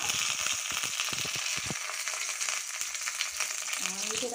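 Curry leaves crackle and spit in hot oil for a tadka while making a veg thali, a dense continuous sizzle with sharp pops near the start, close and steady, with a faint tonal sound near the end.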